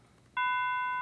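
A synthesized 500 hertz bell tone with its harmonics removed enters abruptly after a short quiet lead-in, then holds as a steady, clean electronic tone with stacked partials, sounding alone and close.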